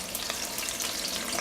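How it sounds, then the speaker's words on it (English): Beef browns in hot sizzling tallow, a steady, close, dense frying hiss that holds an even level throughout with no voices. "my tallow is heated. You can hear it sizzling."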